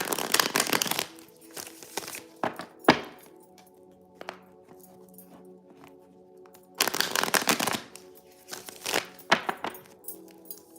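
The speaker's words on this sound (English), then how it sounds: "I'm gonna give this deck a quick shuffle" Crisp riffling bursts of a card deck being shuffled, several quick rounds separated by pauses with faint tapping in between.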